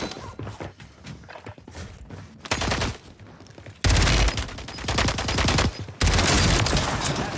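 SMG gunfire in Warzone: repeated loud rapid bursts of automatic fire, several long sustained volleys separated by short gaps, close and dominant with no talk.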